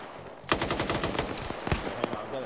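Rapid machine gun fire in a video game comes in quick rattling bursts, moderately close, with a pause and a few further shots.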